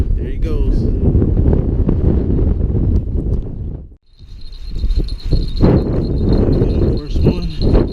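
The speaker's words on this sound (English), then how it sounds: "As I said before, it's windy out here." Strong wind gusting across a fishing pier at the George Crady Bridge in Jacksonville, Florida, buffeting the microphone in loud rumbling bursts that briefly drop out midway before roaring back.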